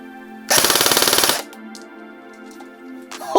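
A Cyma Standard M4 10.5 M-LOK airsoft electric gun with built-in tracer unit and mosfet fires a single full-auto burst of about a second, rapid evenly spaced loud clacks, followed by quiet mechanical handling noise.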